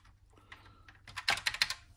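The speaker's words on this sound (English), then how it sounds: "I think all of the key switches work." Replacement key switches on a Microbee keyboard are pressed one after another, giving a burst of sharp, close plastic clicks that quickens into a rapid cluster near the end, with no voices.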